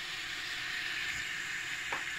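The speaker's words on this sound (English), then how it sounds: "So I've let them sizzle a little bit in the oil." A steady, hissing sizzle of vegetables, including carrots, frying in oil in a pot for soup, even and continuous, with a faint clink near the end.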